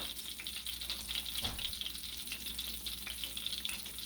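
Hushpuppy batter dropped by tablespoon into hot frying oil, a steady close sizzle with a single soft plop and brief surge of bubbling midway.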